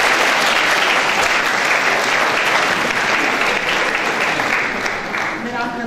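An audience applauds at a choir concert, a loud, sustained patter of many hands clapping that thins slightly toward the end.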